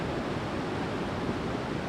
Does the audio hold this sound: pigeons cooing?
no